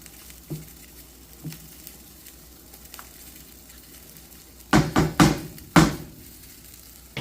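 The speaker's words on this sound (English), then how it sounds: "First, I'm gonna give my sauce a little stir." Thick vodka pasta sauce stirred in a pot: soft scraping and a few wet thuds early, then a cluster of louder clattering spoon strokes near the end, with light simmering beneath.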